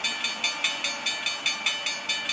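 Simulated train in the Trainz game rolling through a grade crossing, with a steady rhythmic clatter of wheels over rail joints about every 0.2 seconds, moderately loud and continuous, with no voices.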